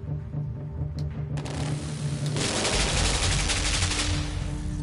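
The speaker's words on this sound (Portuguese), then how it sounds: "Eu tô levando tiro!" Gunfire in the Limbo video game, a dense burst of shots that starts sparse and swells into loud, continuous rapid firing in the second half.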